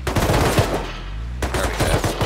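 Rapid automatic gunfire in the video game Rust during a raid on the Arctic Research Base, a burst of close, loud shots, a short pause, then another volley.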